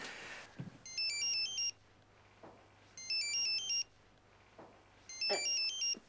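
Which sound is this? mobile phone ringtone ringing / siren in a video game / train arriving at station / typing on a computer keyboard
mobile phone ringtone ringing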